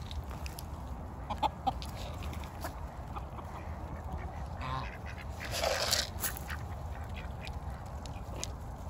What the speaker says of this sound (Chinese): 看我家漂亮的大公鸡